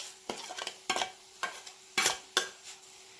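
Minced meat and onion frying in a pan over fairly high heat, stirred with a utensil in several distinct scraping bursts over a steady background sizzle, close and moderately loud with no talking.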